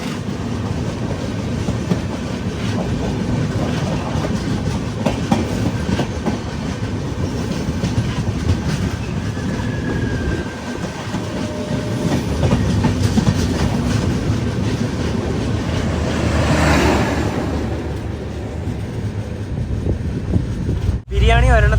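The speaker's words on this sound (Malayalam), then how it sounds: "ട്രെയിൻ ഇതാ കൊച്ചുവേളി റെയിൽവേ സ്റ്റേഷനിലേക്ക് എത്തിയിരിക്കുകയാണ്." Kerala Super Fast Express running on rails toward Kochuveli station, a loud continuous rumble with rhythmic clickety-clack and wind noise, ending in a sharp knock.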